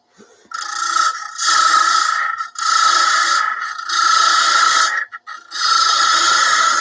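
A bowl gouge cutting the top of a wooden bird-shaped box spinning on a lathe, giving loud, close, rasping scrapes in four long passes broken by short pauses.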